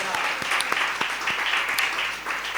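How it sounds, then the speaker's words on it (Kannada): Church congregation clapping hands in praise during a Kannada sermon, a steady patter of many palms with sharp individual claps standing out, moderately loud and continuous throughout. "ಕೈ ಚಪ್ಪಾಳೆ ತಟ್ಟಿ ದೇವರ ಸ್ತೋತ್ರ ಮಾಡಿ"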